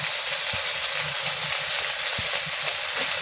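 Ginger-cumin paste frying in hot oil with salt and turmeric, a loud, close, continuous sizzle with occasional soft knocks of a stirring spoon against the pan.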